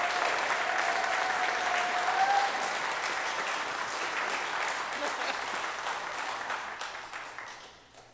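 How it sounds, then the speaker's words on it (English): Sustained applause from a church congregation at a Sunday service, a steady wash of clapping hands that carries on for several seconds before tapering off. "Please give them another applause."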